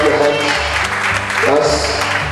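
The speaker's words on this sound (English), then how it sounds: "Clap your hands." A church congregation at a leadership conference for bishops and pastors in Ghana claps hands under loud music with a steady bass line, the clapping blended into the mix for a couple of seconds.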